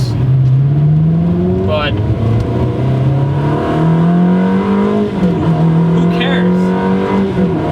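Ferrari 360 with a Tubi exhaust accelerating hard, its engine note climbing in pitch through gear changes, loud and close inside the cabin while someone talks over it.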